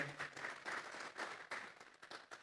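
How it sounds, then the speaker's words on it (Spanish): Church congregation clapping together as an offering of praise to God, a soft, fairly distant patter of many hands in uneven bursts. "Dele una ofrenda de palmas a Dios en esta hora."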